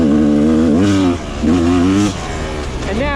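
A Rieju 300 motorcycle engine, its carburetor just leaned out, revs up and drops back in repeated throttle blips, loud and close, with a rising whine on each pull.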